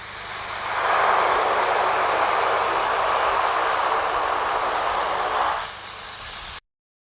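Twin Otter aircraft engines during a landing on snow, a broad roaring rush that swells in and holds loud for several seconds before fading and cutting off.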